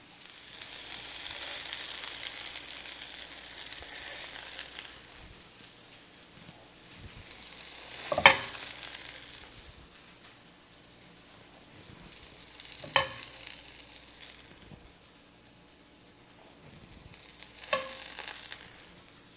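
Chicken breasts fry in hot oil for chicken parmesan, a close, steady sizzle that swells and fades in waves, with a few sharp pops and crackles standing out.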